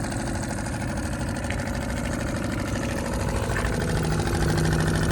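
An outboard boat motor idles steadily with a continuous, fairly loud mechanical rumble and no breaks, running alone without voices.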